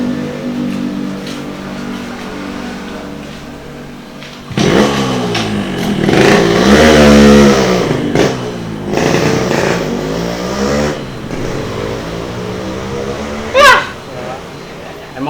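A motorcycle rides up close and is parked, its engine rising loud and revving briefly before settling, heard beneath ongoing conversation between people.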